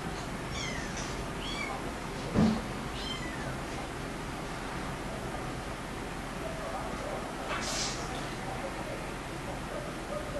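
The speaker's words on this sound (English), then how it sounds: "Well, but these are Annabelle's kittens, babies" A mother cat and her kittens meow in short, thin calls, a cluster early on and another a few seconds later, with a soft thump between them.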